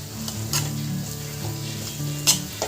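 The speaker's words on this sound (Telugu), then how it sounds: "దీంట్లో ఆయిల్లో మంచిగా రొయ్యలని అయితే వేగనియాలి" Prawns frying in oil in a pan, a soft continuous sizzle broken by several sharp metallic scrapes and clinks from stirring.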